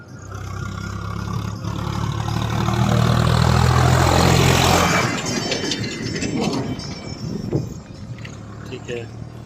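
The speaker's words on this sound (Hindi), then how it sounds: "फिर वापस एक ट्रैक्टर अब" A tractor engine rumbles past: a heavy low drone swells to its loudest midway and then fades as it moves away, leaving lighter background noise and scattered clatter.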